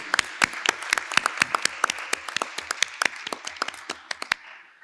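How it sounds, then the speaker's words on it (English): Applause for Christine at a health and wellbeing institute gathering, a few people clapping close by with crisp, distinct strikes in a quick irregular rhythm that fades out at the end. "applause for Christine"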